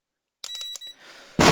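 A cheap multimeter gives a short, high electronic beep that cuts off quickly, followed by a brief burst of harsh noise.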